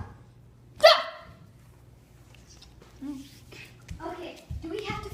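A dog gives one sharp, loud bark nearby, followed by a couple of softer yips, while someone talks around it in a quiet room.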